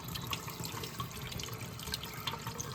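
Water poured and flowing through the cylinder of a 50cc racing chainsaw being built, a continuous soft trickling and splashing at low level with no break.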